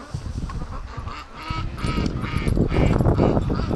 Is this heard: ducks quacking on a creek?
yes